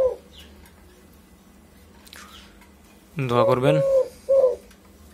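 Doves coo close by in a home aviary of emerald doves, spotted doves and Eurasian collared doves, with a short run of throaty coos followed by a brief second call, and someone speaking quietly at the start.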